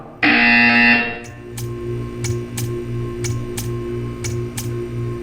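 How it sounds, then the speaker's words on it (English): A harsh electronic buzzer from Portal 2 blares for about a second, then fades into a low hum with regular ticking clicks. "You will hear a buzzer."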